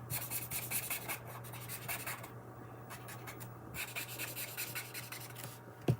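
Chisel-tip alcohol marker pen colouring a retro diner stamp image, quick repeated scratchy strokes across paper in short bursts with brief pauses, close and soft, no talking.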